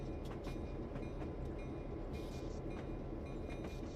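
Freight train rolling past steadily in a train simulator game, a continuous low rumble with faint clicking wheel beats throughout and no voices.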